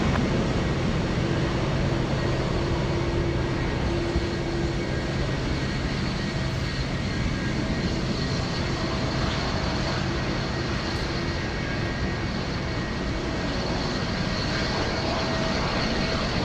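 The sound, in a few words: FedEx Boeing 777 landing at Anchorage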